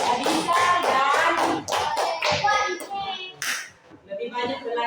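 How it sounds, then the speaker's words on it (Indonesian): A classroom of pupils claps for a student in a brief rhythmic patter, with young voices chanting along over the taps before the sound thins out. "tepuk tangan untuk Adisa"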